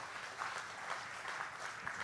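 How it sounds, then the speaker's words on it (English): Conference-hall audience at a G20/OECD corporate governance forum giving a round of applause, an even, distant-sounding patter of many hands that stays quiet and steady. "Can we once again give a round of applause to Ibu Sri Mulyani"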